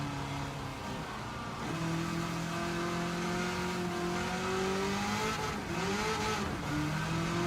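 A 1,000-horsepower Corvette engine in a racing video game drones steadily at high revs, its pitch rising and dipping with gear changes and throttle, continuous and loud without any talk.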